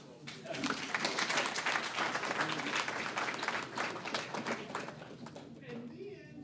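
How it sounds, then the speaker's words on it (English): A quiet round of applause rises from those attending a city commission meeting, a soft, scattered patter of many hands that swells briefly and then fades as a voice starts talking. "So let's give her a round of applause."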